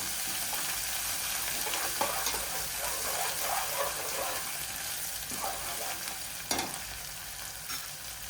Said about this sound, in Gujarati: આદુ લસણ મરચાંની પેસ્ટ એડ કરીશું, તેને પણ આપણે સારી રીતે સાંતળી લઈશું